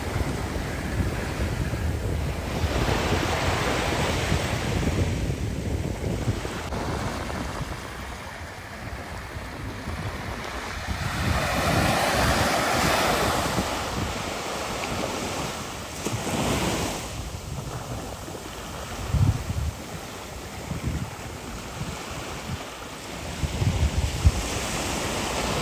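Ocean waves wash onto a sandy beach in the Canary Islands, a continuous surf roar that swells and recedes over strong gusting wind buffeting the microphone.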